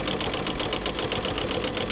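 A sewing machine stitches diagonally across a zippered cushion with raw-edge appliqué, a steady, close, continuous whirring hum with a fast regular rhythm throughout and no talking.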